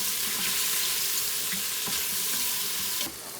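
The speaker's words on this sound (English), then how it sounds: "You can hear that sizzle. This pot gets real hot," Mushrooms sizzle steadily in a hot electric cooker pot, a constant bright hiss with faint crackles, close up, ending with a brief shift near the end.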